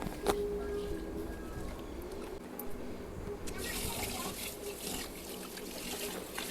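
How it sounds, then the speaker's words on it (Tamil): Rice grains being rinsed by hand in a vessel of water for idli batter, with steady sloshing and trickling water throughout, fairly close and moderately loud, no talking. "நம்ம அரிசியை வந்து நல்லா தண்ணி விட்டு நல்லா ஒரு 3-4 அலசிடலாங்க."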